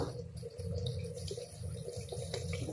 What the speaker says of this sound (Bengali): মুরগি দিয়ে অনেক অনেক পানি দিব, পরিমাণ পানি দিলাম।